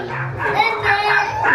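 A dog barks and yips close by in a lively home during Christmas, its sharp bursts overlapping with people talking.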